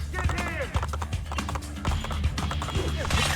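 Horse hooves clip-clop in a rhythmic gallop in the Assassin's Creed 2 video game, with game sound effects and occasional game voices mixed in.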